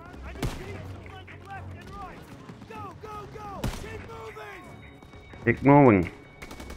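Machine gun fire in Call of Duty: WW2, a few sharp, loud gunshots spread through the scene with a heavier burst near the end, heard over battle noise while soldiers talk.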